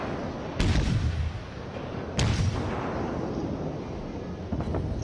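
The cruiser St. Louis fires its guns in World of Warships: two heavy booming salvos a couple of seconds apart, each rolling into a long rumble, then a fainter third shot near the end.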